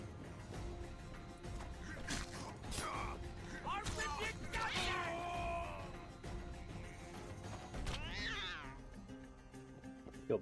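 A cat in The Witcher video game meows and yowls in several drawn-out caterwauling cries, loud and close, before being killed, with game sounds and some talk around it.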